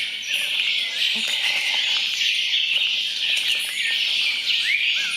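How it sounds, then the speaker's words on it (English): Birds sing and chirp in a retreat setting, a dense, continuous chorus of overlapping calls with faint insect-like buzzing beneath, fairly close and without talk. "enjoy the sound bath from the birds"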